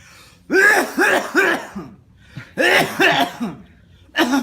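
Several harsh coughs and throat-clearing bursts in two clusters, close and loud, separated by short pauses.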